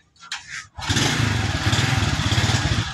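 A motorcycle engine is started after a clutch repair and settles straight into a loud, steady, close-up idle, with a brief rustle just before it fires.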